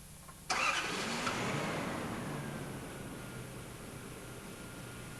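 A car engine with TCCS electronic control, just after an IDL contact adjustment, cranks and catches with a sharp start, then settles into a steady, even idle that slowly eases in loudness.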